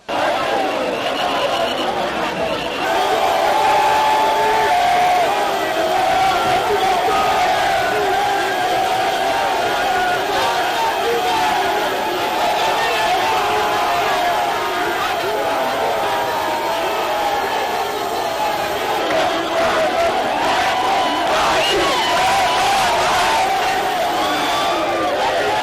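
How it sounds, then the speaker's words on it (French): Large crowd at a political rally in Kinshasa, DR Congo, a dense continuous roar of chatter, shouting and cheering that stays loud and close throughout. "Félix-Antoine Tshisekedi Tshilombo, savoure le bain de foule jusqu'à la place Kermesse où la tribune était érigée pour la circonstance."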